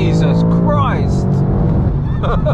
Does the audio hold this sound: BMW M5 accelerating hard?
yes